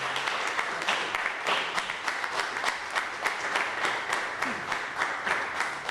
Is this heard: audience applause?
yes